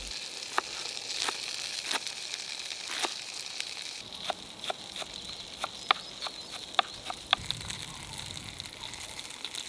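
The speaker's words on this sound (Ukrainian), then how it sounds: "Спочатку нарізаємо цибулю" Knife chopping green onions on a cutting board, a string of sharp, irregular taps under a faint steady background hiss, with the cuts quickening in the second half.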